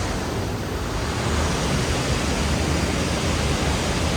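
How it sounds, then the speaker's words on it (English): A heavy rain shower outdoors beside a spring waterfall in Michigan's Upper Peninsula, a dense, constant broadband hiss of downpour that holds steady and loud throughout, with no voices. "I gotta get out of the rain and get my raincoat on."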